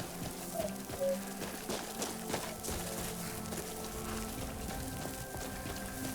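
Rain falls in the open world of Skyrim, a steady hiss that runs through the whole stretch mixed with game music and ambient sound, with a few faint voice fragments.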